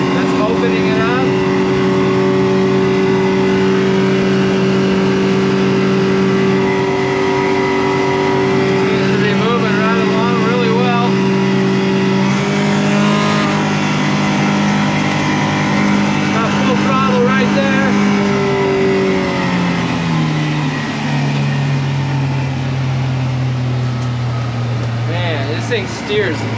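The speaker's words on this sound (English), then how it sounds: "So I'm going to add some more throttle here. That's opening it up." A 2006 Duckworth Advantage 18 boat with a Yamaha 115HP outboard runs at full throttle, its steady engine drone loud and close throughout, pitch climbing and shifting as it accelerates over water.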